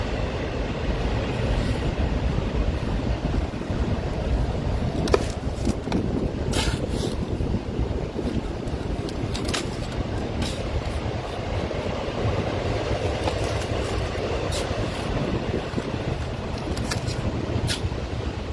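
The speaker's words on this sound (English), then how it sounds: "This park where I'm at happens to be right across the street from the tracks, so it's a little loud" A train rumbles past on tracks across the street from a park, with a continuous loud roar and occasional metallic clacks, sustained throughout.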